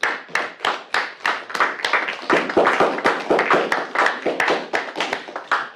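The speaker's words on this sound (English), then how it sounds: "can we have a round of applause?" A round of applause made of sharp, evenly spaced hand claps that repeat quickly and close up for several seconds, with no voices over them.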